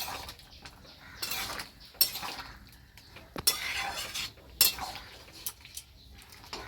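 A metal spoon scrapes and clinks against a pot as prawns are stirred into a simmering jackfruit curry, giving several sharp knocks and rattles spread irregularly over a quiet background.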